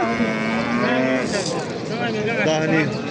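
Cattle at the Shahrituz livestock market give a long, loud, close moo that rises and wavers, with other bovine calls and crowd voices mixed in.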